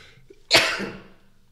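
A single loud sneeze bursts out close to the microphone, sharp at the start and trailing off over about a second, with near silence before and after it.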